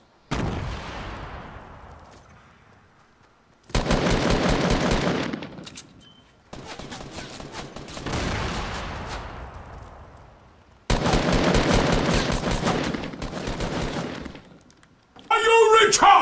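Video game dual pistols firing in rapid bursts, several loud volleys of gunfire separated by short pauses, with voices of players talking between the shots.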